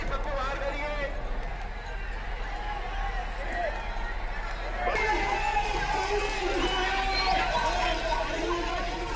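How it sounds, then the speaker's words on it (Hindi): A dense crowd of people murmurs and bustles at a busy traditional fair, a steady wash of distant chatter with a voice speaking over it. "भीड़ भी आप देखिए, कितनी बड़ी संख्या में लोग इस मेले को देखने पहुंचते हैं"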